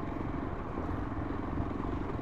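Yezdi Adventure motorcycle ride: a steady, low rumbling engine drone mixed with road and wind noise, continuous and fairly faint with no pauses.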